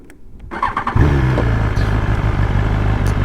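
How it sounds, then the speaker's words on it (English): BMW S motorcycle engine cranking briefly with a starter whir, then catching and settling into a loud, close, throbbing idle. "Let me start the bike."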